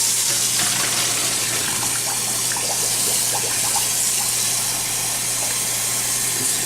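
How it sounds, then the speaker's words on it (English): Cold water runs from a kitchen tap over freshly cooked ravioli in a strainer, a steady, close, continuous splashing rush with a low background hum and no talking. "in cold running water."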